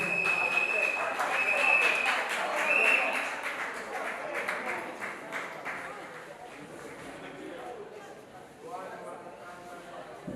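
A crowd at the Miss Maman Africa 2025 pageant evening claps for the group in a dense, steady burst of applause that is loudest early and gradually thins, with crowd voices mixed in.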